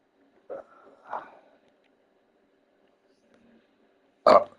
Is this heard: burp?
yes